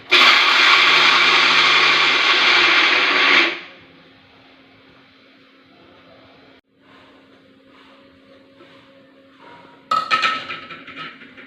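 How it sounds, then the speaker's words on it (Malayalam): A mixer grinder runs loud on peanuts and a little olive oil for about three seconds, then stops; a faint hum and small clinks follow before a short burst of jar and lid clatter. "ശേഷം മിക്സിയിലിട്ട് അരച്ചെടുക്കുക."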